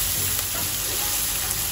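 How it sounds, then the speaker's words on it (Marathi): Onion frying in a pan to a light reddish brown, a steady close sizzle with broad hiss running evenly throughout, no voices. "कांदा आपल्याला चांगल्या प्रकारे शिजवायचा आहे, थोडासा लाल होऊ द्यायचा कांदा"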